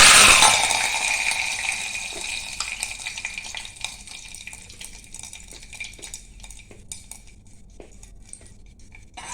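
Curry leaves drop into hot oil with mustard and cumin seeds for a dhokla tempering, bursting into a loud spitting sizzle that steadily fades into lighter crackles and occasional pops.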